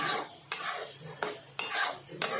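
Ghee-coated grated coconut being stirred in a pan for kesar pista copra pak, a spoon scraping and clinking against the metal in several sharp strokes over a soft, steady scraping hiss.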